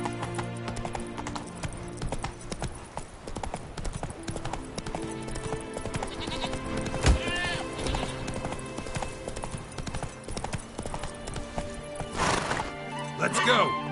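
Roach the horse gallops in The Witcher 3, with quick rhythmic hoofbeats throughout, a whinny around the middle, and music and game sounds layered underneath.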